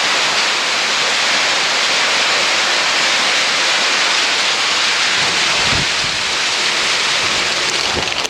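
Heavy rain and sleet drum steadily against a metal garage door, a loud continuous roar with occasional low thuds of wind.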